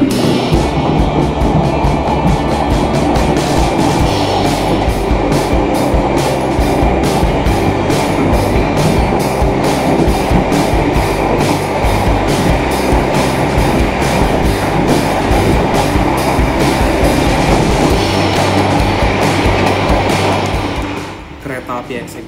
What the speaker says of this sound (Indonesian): Nah, lihat, baru aja berangkat, keretanya udah ngebut banget.